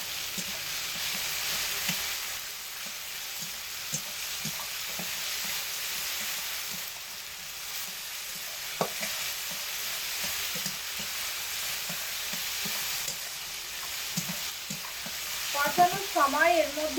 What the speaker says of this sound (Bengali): এগুলো একসাথে খুব ভালোভাবে কষিয়ে নিচ্ছি